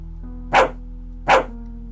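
A dog barks twice in a video game, two evenly spaced, loud, close single barks over a steady low electronic hum.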